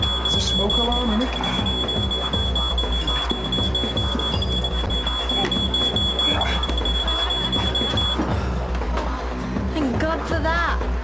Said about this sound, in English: It's a smoke alarm, isn't it?